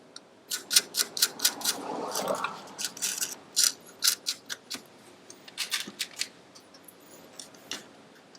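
Bolts with washers tightened on a solar battery mount, giving a string of quick close metallic clicks and ratcheting ticks in irregular bursts with small clinking between them.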